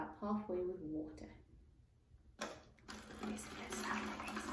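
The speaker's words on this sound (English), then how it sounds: "And with this bottle, I'm going to fill it up halfway with water." Water poured into a bottle until it is half full, a rising broadband splash and trickle after a pause, with someone speaking briefly before it.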